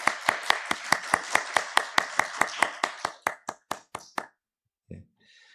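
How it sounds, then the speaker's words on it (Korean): A church congregation at a Sunday service in Seattle claps in welcome, a run of about twenty crisp, evenly spaced claps that slow and thin out before stopping, with a short sound after the pause. "우리 기쁨으로 환영하는 박수 올려드리겠습니다"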